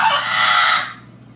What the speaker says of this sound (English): This is the call that goes on and on when you've hurt an Amazon's feelings